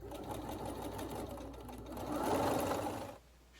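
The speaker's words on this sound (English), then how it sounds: "making that second French seam along the bottom edge, scant 1/4 inch." A sewing machine stitches a scant quarter-inch French seam along the bottom edge of a pillowcase, a steady close motor whir that swells louder near the end before stopping abruptly.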